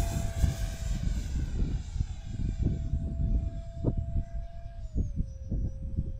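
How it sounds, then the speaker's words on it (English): An Arrows T33 50mm electric ducted fan model jet making a fast pass at full throttle, a steady high-pitched whine that shifts downward as it passes, heard from a distance on a windy day. "Here comes a fast pass, full throttle."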